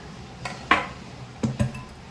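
A utensil mixes sifted flour, salt and other dry ingredients in a bowl for a double chocolate marble cake, giving a few separate soft clinks and taps against the bowl with quiet pauses between them.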